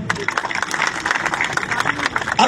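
A crowd at a public Basaveshwar Jayanti gathering in Nanded breaks into applause, with loud, dense clapping and scattered sharp claps that rise and fall unevenly through the clip.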